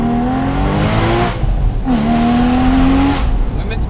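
A Porsche Boxster Spyder engine revs hard in two rising pulls separated by a brief gear-change dip, loud and close, with people talking over it.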